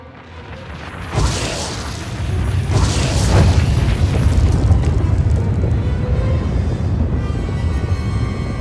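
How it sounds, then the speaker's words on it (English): Orbital weapon satellites fire on the planet Makeb in Star Wars: The Old Republic video game, a loud boom followed by a sustained rumbling roar with distant blasts rolling through. "Orbital weapon satellites right over our heads. They're firing on Makeb."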